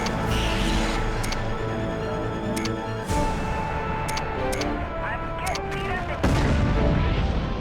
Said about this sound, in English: trading large volleys of LRMs with my ERPPC fire and the artillery fire